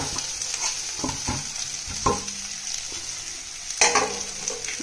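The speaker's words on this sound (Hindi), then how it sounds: "अब हम इसको थोड़ा सा सॉटे करना है" Poha ingredients sautéing in a pan, a steady close sizzle broken by several sharp scrapes and clinks of a spoon stirring against the metal, with no voices.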